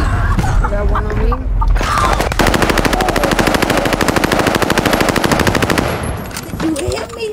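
Rapid automatic gunfire in a video game shootout, a loud sustained burst of closely spaced shots lasting several seconds, with brief talk before and after.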